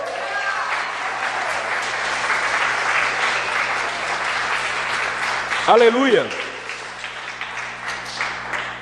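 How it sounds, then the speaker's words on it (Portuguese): A church congregation applauds loudly and steadily while a preacher briefly calls out in Portuguese over the clapping. "um forte aplauso ao Senhor"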